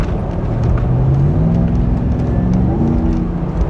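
A Toyota 100 Series Land Cruiser's supercharged 2UZ V8 hums up close with a rising whine as it accelerates, the exhaust droning steadily throughout, no voices.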